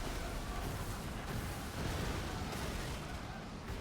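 Bomb lanterns detonate in the naval video game Skull and Bones, a dense, loud rumbling roar of explosions that runs continuously with little break.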